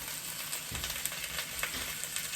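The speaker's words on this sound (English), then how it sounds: "So it is still searing." Sous vide pork chops sear in a hot pan under a splatter screen, giving a loud, even crackling sizzle with small pops throughout and no voices.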